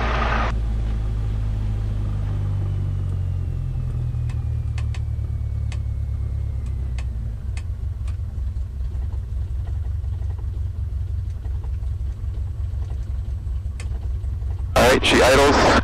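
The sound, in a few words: light training aircraft engine idling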